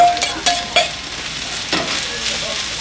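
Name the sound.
frying onions and peppers in grapeseed oil on grill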